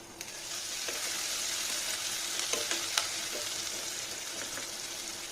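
Capsicum sautéing in a pan for chicken kadai, a dense, even sizzle with a few light spatula taps, close and continuous, with no speech.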